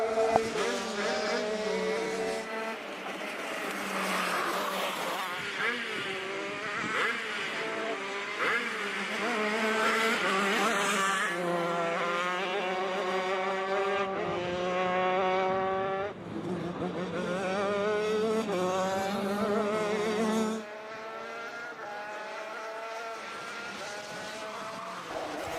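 Several 125cc shifter karts race at Adams Motorsports Park during a winter league event, their high-pitched two-stroke engines rising and falling through gear changes as they pass close by, loud and continuous with overlapping harmonic whines and no talk.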